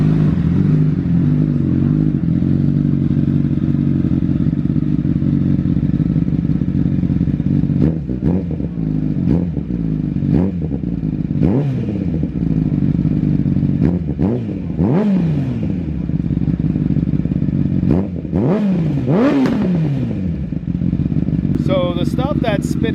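A 2018 Honda CBR1000RR fitted with a Yoshimura slip-on exhaust idles, then is revved in repeated sharp rising and falling bursts, loud and close, while people talk nearby.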